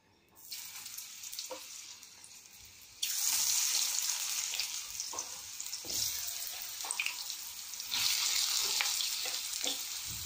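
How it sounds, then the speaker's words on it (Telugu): Bottle gourd pieces fry in hot oil, starting quiet and jumping to a loud, bright, crackling hiss that swells and eases in waves, close up with no voices. "ఈ ఆనపకాయ ముక్కల్ని కొంచెం మనం ఆయిల్ వేసి వేయించాలి."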